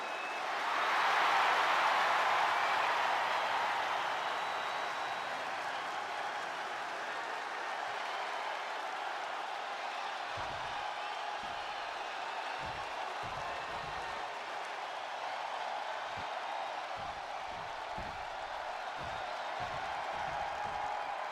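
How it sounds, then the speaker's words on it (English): A wrestling arena crowd in the WWE 2K26 video game roars and applauds in a broad, sustained swell that peaks early and then holds as a steady wash of cheering, with faint low thumps later on. "The crowd is into this guy, man."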